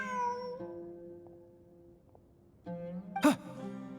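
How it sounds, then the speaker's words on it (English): A cat in Genshin Impact gives a few soft meows amid quiet tonal game music, then a louder, sharper meow near the end; close and clear with no talking. "Look, a cat."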